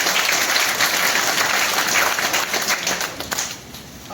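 Audience applause fills a training session hall: steady, dense clapping from a crowd, loud and close at first, then thinning and fading slightly toward the end.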